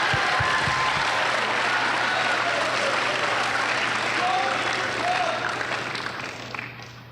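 A crowd at a high school student-government conference opening ceremony in Juneau applauds steadily, a dense wash of clapping that holds at full strength for several seconds and then gradually tapers off, with a low steady hum underneath.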